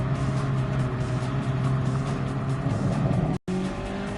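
Car engine roaring steadily in Gran Turismo Sport while drifting, a loud continuous drone with a faint squeal of tires, cut by a brief moment of silence near the end.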